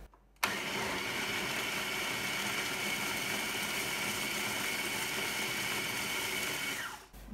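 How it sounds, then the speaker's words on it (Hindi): A blender grinding green chillies into paste whirs loudly and steadily for several seconds, starting abruptly and cutting off at the end. "ब्लेंडर को ऑन कर लेते हैं।"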